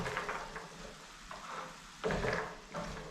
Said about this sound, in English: But I want to stir this.